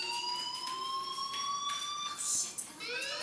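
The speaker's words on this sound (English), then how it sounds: "Hey, do you hear that fire alarm?" A fire alarm rings in the video game Life is Strange, sounding as a sustained electronic tone with shimmering harmonics. It is fairly faint and steady, with a brief burst of other noise near the end.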